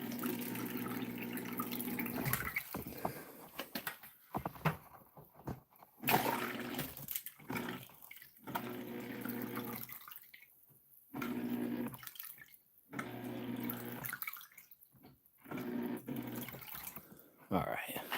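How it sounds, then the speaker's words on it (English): A small water pump runs briefly to wash residual black sands in a gold concentrate cleanup, producing quiet intermittent water flow and splashing with several pauses. "I'm going to bump the pump and have it come back on for a brief bit."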